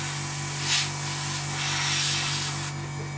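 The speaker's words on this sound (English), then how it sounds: "to give us our camo work sprayed in" Airbrush spraying camouflage paint onto the wing of an Eduard 1/48 MiG-29 model kit, a steady close hiss of air with slight swells between passes and a constant low hum beneath, no talk.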